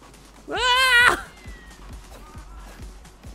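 Cats in the video game Tokyo Jungle let out one loud, drawn-out meow up close, followed by quieter, fainter cat calls and game sounds, with a voice speaking around them.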